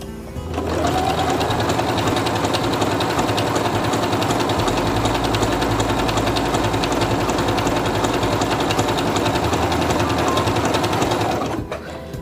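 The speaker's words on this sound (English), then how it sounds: "And I'm going to sew again to see what it looks like." A Singer Quantum Stylist 9960 sewing machine runs a mirror-image stitch in one continuous stretch, a loud, close, rapid mechanical whirring with a rhythmic needle chatter that starts and stops cleanly, with no voices.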